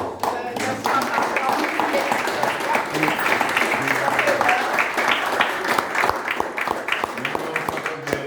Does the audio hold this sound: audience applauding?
yes